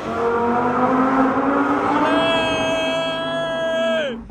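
Lamborghini supercar engine revving hard inside a tunnel, a loud sustained roar that climbs in pitch partway through and holds before dropping off at the end, with the enclosed space adding a booming, reverberant quality.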